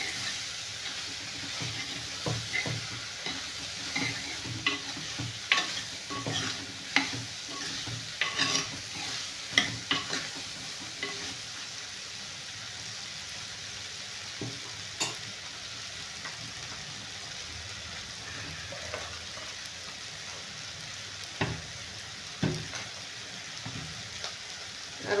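Ghee sizzles in a pan as a spoon stirs and scrapes through it, steady frying crackle broken by repeated clinks and scrapes close by for a long stretch.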